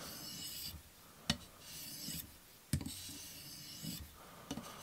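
Knife blade drawn back and forth over diamond sharpening stones on a TSPROF Blitz Pro system, a steady close rasping rub in repeated strokes with a few sharp clicks between passes.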